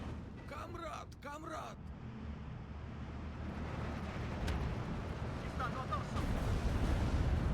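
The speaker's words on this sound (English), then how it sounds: "So we got another rocket off map." Rocket artillery strike in the video game Steel Division 2, a sustained rumbling barrage of distant booms that builds steadily louder, with voices talking over the first couple of seconds.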